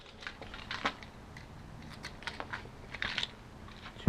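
A bunch of car keys jingles and clicks in someone's hand, with scattered light metallic rattles and taps, close and quiet, beside a Subaru Forester.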